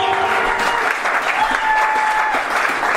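A church congregation applauding together, a loud, dense, sustained burst of clapping that fills the room, with a faint voice underneath.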